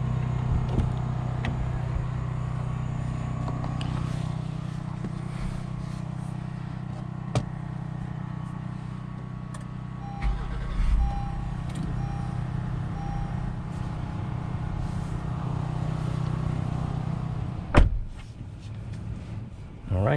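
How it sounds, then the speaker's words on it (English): A 2021 Honda Pilot Black Edition SUV cruises along with a steady low engine and road drone heard from inside the cabin, with a brief thump and a rustle near the end. "let's go ahead and take this Honda Pilot on a test drive and see how it does"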